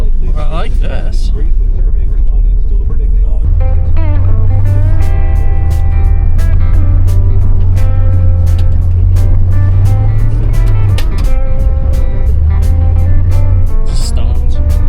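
A 1978 Dodge Monaco patrol car rolls slowly over a gravel driveway with a loud, steady engine rumble, scattered sharp crunching pops from the stones beneath the tires, and voices talking over it.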